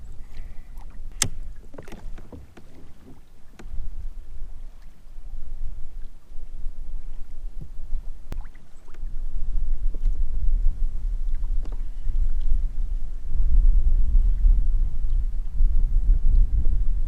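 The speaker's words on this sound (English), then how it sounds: "The wind's kicking up." Wind gusts over open fresh water during kayak bass fishing, a low rumbling buffet against the microphone that grows stronger toward the end, with a few faint clicks and knocks from the boat.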